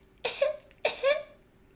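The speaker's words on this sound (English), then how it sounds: "He coughed pathetically." A narrator reading Howl's Moving Castle aloud coughs two times, close and dry, as a performed, deliberately pathetic cough with short voiced tails.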